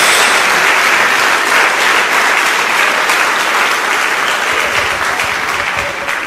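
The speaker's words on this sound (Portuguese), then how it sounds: "Dê uma salva de palmas a Jesus." Loud, sustained applause from a large church congregation, a thick continuous roar of clapping that fades slightly near the end.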